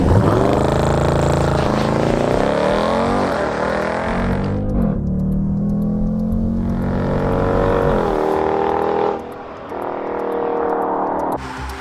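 A Dodge Durango SRT launches hard using launch control in a drag race. The engine roars loudly and climbs in pitch through several gear changes with brief dips between them, then the sound eases off near the end.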